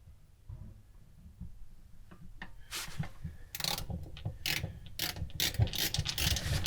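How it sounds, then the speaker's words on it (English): Magnetic screwdriver driving a screw during a caravan motorhome gas regulator repair: quiet handling at first, then repeated close ratcheting clicks and scraping turns growing denser and louder. "Get the screw, a magnetic screwdriver, so it should hold it"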